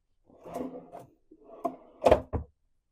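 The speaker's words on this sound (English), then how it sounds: "Plenty of drawers available." A drawer in a Disney Fantasy concierge cruise stateroom slides along, then gives a couple of sharp wooden knocks as it shuts, close and moderately loud in a quiet room.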